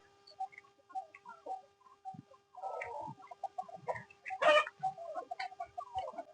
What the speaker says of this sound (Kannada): ನಮ್ಮ ಕೋಳಿಗಳೆಲ್ಲ ಯಾವ ರೀತಿ ತೋಟ ತೊಗೊಂಡು ಮೇಯ್ತಾ ಇರುತ್ತೆ